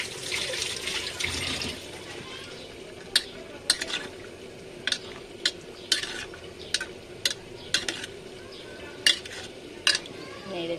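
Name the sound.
stirring potatoes into lentils in a pot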